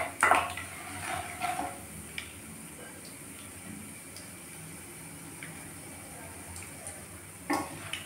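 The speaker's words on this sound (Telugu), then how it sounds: "కాసేపు వేగాలండి." Okra (benda kaya) fries quietly in a pan with a soft, steady sizzle, while a few metal clinks from stirring come near the start and again near the end.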